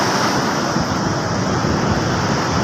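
Big typhoon-driven waves surge and crash along the shore, a steady loud roar of surf mixed with gusting wind, continuous and close with no voices.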